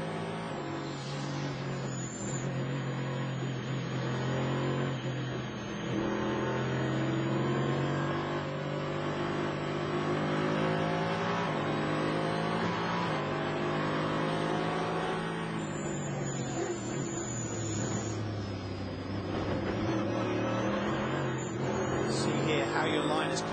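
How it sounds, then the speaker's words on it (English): A Dallara Daytona Prototype race car lapping Lime Rock Park in traffic, its engine note rising and falling under throttle modulation, loud and close throughout, with someone talking over it. "You can hear the throttle modulation by Mamo Gidley now"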